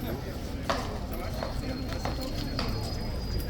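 Horse hooves clip-clop at Horse Guards in London, a few distinct knocks standing out over steady crowd chatter and street noise.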